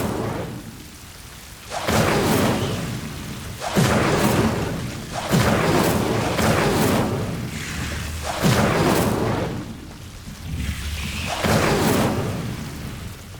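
Incendio fire spell in Hogwarts Legacy, cast again and again: a series of loud whooshing, roaring flame bursts, each swelling and fading, roughly every one to two seconds over a rumbling background.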